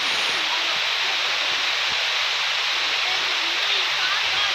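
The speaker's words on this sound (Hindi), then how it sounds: "पानी इस तरह नीचे गिर रहा है" Village waterfall spilling between trees and bushes, a steady, loud, broadband rush of falling water filling the whole clip without letup.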